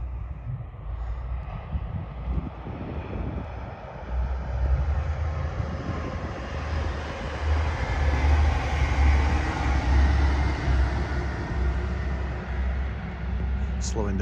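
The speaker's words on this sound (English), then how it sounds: "another train is coming up, or rather down. It's a down TPE service." A TransPennine Express train on a down service near Brough passes trackside as a rising, steady roar of wheels and engine that swells and lingers, heard from a cycle path.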